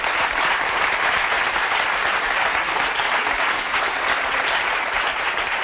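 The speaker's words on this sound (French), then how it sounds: "Je vous demande de l'applaudir très fort." A television studio audience applauds a guest loudly and continuously, a dense, even roar of clapping with no voices over it.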